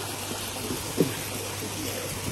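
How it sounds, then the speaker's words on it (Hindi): Sewage water from an open drain pouring into the Ganges at Rishikesh, a steady broad rushing wash with a faint low hum beneath and one brief knock. "वहां से नाला बह रहा है।"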